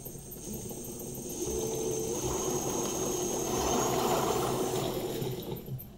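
An alternator converted into a brushless motor spins up under throttle, giving a steady close electric whine with a mechanical hum that swells slightly midway and holds, with no talking.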